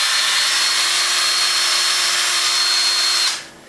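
An electric drill fitted with a wire brush spins up with a loud, steady, high-pitched whirring grind for about three seconds, then winds down and stops.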